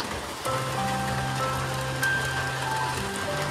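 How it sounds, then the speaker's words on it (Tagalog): Rain falls on a house roof as a steady, fairly faint hiss and patter, with a few faint tonal hums running through it and no voices. "Grabe kasi itong ulan na to."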